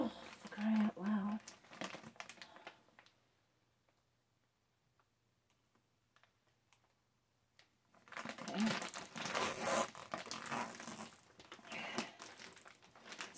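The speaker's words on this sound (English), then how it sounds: "We got a zip tie" A plastic zip tie ratchets shut in quick clicking bursts, close and fairly loud, with a long quiet pause between the bouts of handling.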